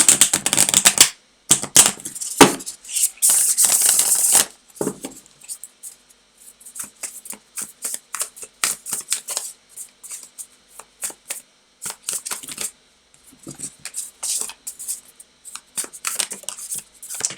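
Tarot cards are shuffled by hand, with a dense riffling burst at the start followed by scattered light flicks and slaps of the cards, close up.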